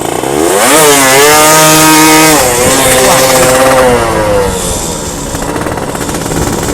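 A Suzuki Satria motorcycle engine fires up and is revved hard close by, its loud buzzing note climbing and falling before settling into a rough, steady idle.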